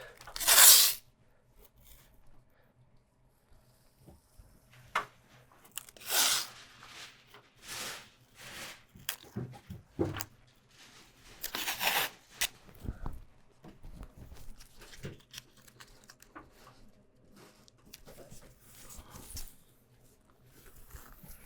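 Masking tape is pulled off the roll and pressed along an upper line on a brick wall, giving a few sharp tearing rips spaced across quieter rustling, with no one talking.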